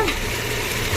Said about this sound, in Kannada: ಎಣ್ಣೆ ಚೆನ್ನಾಗಿ ತೇಲ್ ಬರ್ತಾ ಇದೆ ನೋಡಿ ಎಷ್ಟು ಚೆನ್ನಾಗಿ ಕುದಿತಾ ಇದೆ